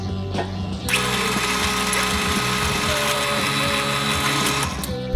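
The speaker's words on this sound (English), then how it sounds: "Make sure we are all still good before we go drilling the second hole" A power drill whines continuously at close range drilling a hole in G10 knife handle material, a steady high mechanical buzz with grinding undertones, running without pause.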